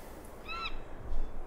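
A seagull in the Baphomets Fluch 5 (Broken Sword 5) video game gives one short, clear harmonic cry, slightly upward-sweeping, over a low background rumble with no talk.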